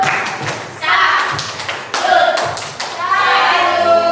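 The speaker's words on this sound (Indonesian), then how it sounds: "Kita beri tepuk salut dong." Rhythmic group clapping at a teachers' training session, bursts of claps in short patterned bouts separated by brief pauses, with voices chanting along between and over the beats.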